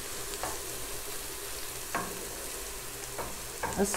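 Onions fry in hot oil with a constant soft, even sizzle, a few faint stirring scrapes spaced out, close and quiet with no talking.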